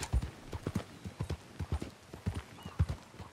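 A horse's hooves clip-clop at a steady trotting rhythm in the Red Dead Online video game, about a dozen close, distinct footfalls with no talking.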